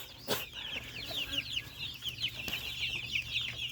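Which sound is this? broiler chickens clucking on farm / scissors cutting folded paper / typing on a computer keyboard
broiler chickens clucking on farm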